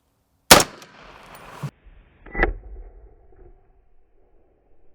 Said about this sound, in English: Of course we're going to shoot it on the high speed.